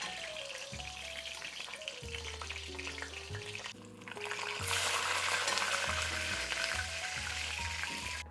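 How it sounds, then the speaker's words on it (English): Pork belly pieces frying fat side down in shimmering oil, a steady sizzle that swells louder partway through, under background music. "when our oil is shimmering, we're gonna put the pork belly in, fat side down"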